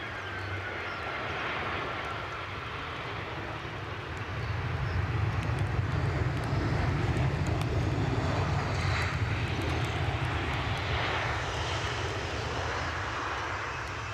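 A Qatar Airways Airbus A350 airliner roars steadily as it passes, a broad, continuous engine rumble that swells after a few seconds and holds loud to the end.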